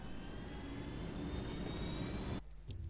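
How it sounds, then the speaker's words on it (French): A helicopter in Ghost Recon Wildlands gives a faint, steady engine and rotor drone with a whining tone, then cuts off abruptly near the end. "on monte dans l'hélico les copains"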